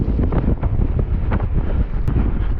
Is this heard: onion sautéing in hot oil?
no